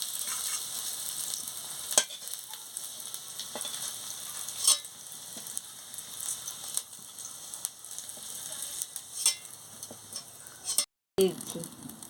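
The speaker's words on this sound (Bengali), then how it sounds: "আলুটা ভেজে নেব।" Potatoes frying in a little oil in a home kitchen pan, a steady soft sizzle running throughout with occasional stirring clicks and scrapes, close and moderately quiet, with a brief dropout near the end.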